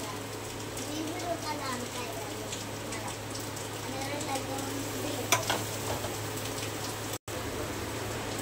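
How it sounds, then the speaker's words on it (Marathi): Ginger garlic paste hits browned fried onions in a pan for chicken curry, with a continuous steady sizzle and occasional stirring scrapes throughout, close up. "कांदा लाल झालेला आहे, तर आपण अद्रक लसूणची पेस्ट टाकूया।"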